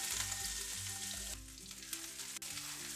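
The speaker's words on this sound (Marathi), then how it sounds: "जो मिरची, लसूण आणि कोथिंबीरचा आपण ठेचा तयार करून घेतलेला आहे तो आपल्याला तेलात" Crushed green chilli, garlic and coriander thecha with cumin frying in hot oil, a loud continuous sizzle close up, briefly dipping and then crackling on.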